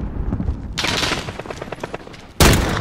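Gunfire in a first-person video game, a burst of rapid shots followed by one sharp, loud report near the end, up close.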